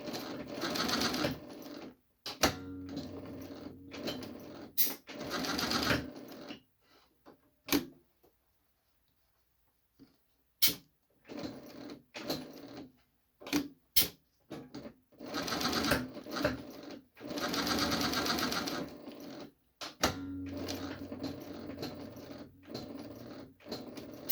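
A Singer 168W101 flatbed industrial sewing machine stitches forward and then in reverse. Its rapid mechanical whirr and clatter comes in bursts separated by brief pauses and single clicks.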